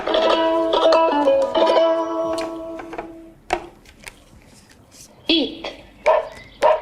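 A children's animal sound card toy plays a recorded dog barking, several short electronic-sounding barks and yips, close and clear, alongside a spoken voice on the toy.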